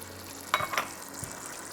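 Chopped ginger and garlic fry in a pan with a soft, continuous sizzle, broken by a couple of brief metallic scrapes from stirring.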